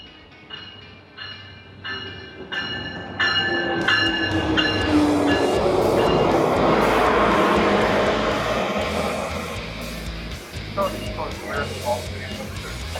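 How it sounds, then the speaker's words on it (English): A train rolls past close by, its rumble swelling loud over a few seconds with metallic squeals and clattering wheels, then easing off, with a voice talking underneath. "Here comes a train"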